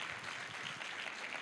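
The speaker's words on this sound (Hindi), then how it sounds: "ताली बजा के जोर से प्रभु को धन्यवाद दे" Church congregation clapping together to thank the Lord during a sermon, a steady wash of applause heard faint and somewhat distant.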